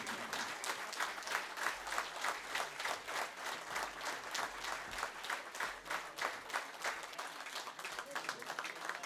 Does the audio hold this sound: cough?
no